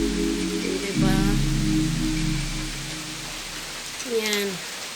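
Steady rain hiss on a sandy beach fills the background while voice-like tones hum and waver over it, fairly loud and continuous throughout.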